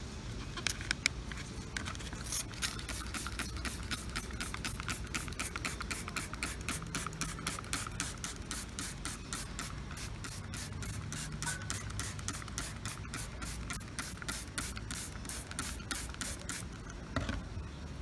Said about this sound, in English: And then you can spray this on your